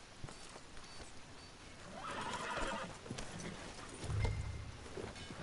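In the Red Dead Redemption video game, a horse gives a clear whinny and its hooves clip-clop at a walk, fairly close and moderately loud.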